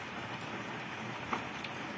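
Steady rain falls over Srinagar in Kashmir after a spell of hot weather, a soft continuous broadband hiss with a couple of faint drip-like ticks, even and unbroken for the whole stretch with no voices.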